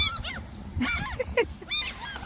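Geese or similar waterfowl honk repeatedly while being fed by people in a cold northern European setting, loud, close, overlapping calls in uneven bursts.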